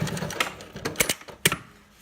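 A Juki LU-2810-7 walking foot lockstitch sewing machine trims its thread with a few sharp mechanical clicks and taps, loud and close, scattered irregularly over a quiet hum.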